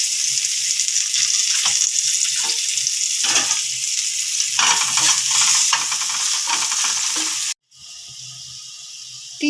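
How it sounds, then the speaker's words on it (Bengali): Bitter gourd frying in hot oil over medium heat, a steady bright sizzle with occasional stirring scrapes, dropping briefly to quieter hissing near the end. "এবার আমি উচ্ছেটাকে ভেজে নেব একটু"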